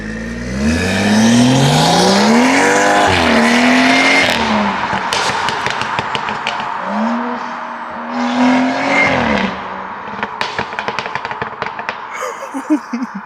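A BMW 540i with a B58 engine and a catless downpipe accelerates hard, its loud exhaust note rising and falling through quick gear shifts, then settling into a burble broken by sharp crackles and pops.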